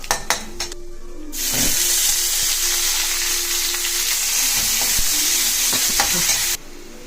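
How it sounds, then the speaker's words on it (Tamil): Mustard seeds, chana and urad dal, and onions fry in hot oil for a spicy kara adai, giving a steady loud sizzle after a few early crackles and pops, with no talk. "இப்போ இது கடுகு பொரியுது"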